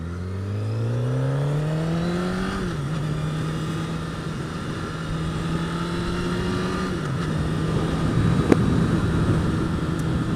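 A Honda CBR1000RR motorcycle engine, still being run in, hums steadily underway with a rising then levelling tone and a couple of brief pitch dips, constant and fairly close with no talk.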